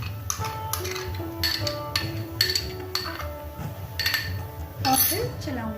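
A spoon stirs rabri thickened with fresh cream in a pan, making light irregular metal clinks and scrapes close up while someone speaks over them.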